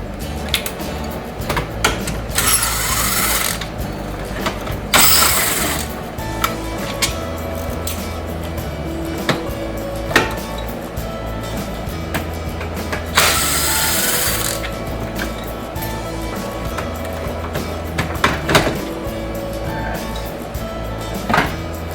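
A ratcheting screwdriver works a Phillips screw inside the center console of a 2004 GMC 2500HD Duramax, giving long runs of rapid close clicking from the pawl, broken by a few bursts of harsher scraping.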